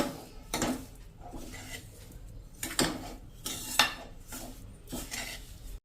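A spoon scrapes and clinks against a metal vessel while sugar is mixed into a moong dal laddu mixture, a series of irregular close scraping strokes and sharp metallic taps at a moderate level with no talking.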